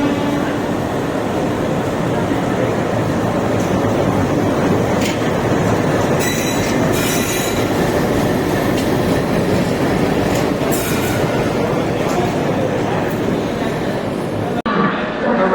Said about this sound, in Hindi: तो ये ट्रेन जो है वो लगाई जा रही है अपनी 16 पे।